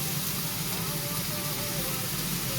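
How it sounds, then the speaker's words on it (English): A kitchen exhaust fan runs while bacon and mushroom cheeseburgers are cooked, giving a constant broadband whooshing hiss with a steady low hum beneath, loud and unchanging. "Now I hope that the exhaust fan isn't too loud at the moment."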